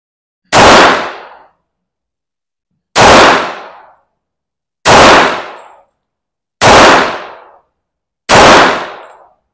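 Five loud, sharp gunshots from a Springfield Armory Emissary pistol fired at a range, evenly spaced about two seconds apart, each crack decaying quickly into silence.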